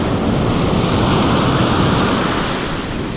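Ocean surf washes onto a fishing beach in a loud, continuous roar of breaking waves, close by, with some wind buffeting the microphone and no talking.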